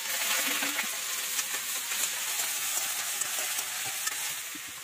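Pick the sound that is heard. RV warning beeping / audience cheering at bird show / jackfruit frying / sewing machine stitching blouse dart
jackfruit frying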